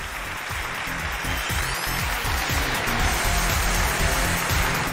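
A studio audience on a Chinese relationship TV show applauds to welcome a couple on stage, with steady, dense clapping that holds throughout over a rhythmic musical beat.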